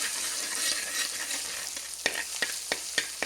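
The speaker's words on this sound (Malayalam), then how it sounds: "ഇതിലേക്ക് കുരുമുളക് വെളുത്തുള്ളി പേസ്റ്റ് ചേർത്ത് കൊടുക്കാം ഇളക്കി കൊടുക്കണം" Green pepper and garlic paste sautéed in a pan for a Kerala-style fish curry, a soft hissing sizzle followed by several sharp spatula scrapes and knocks, no voices.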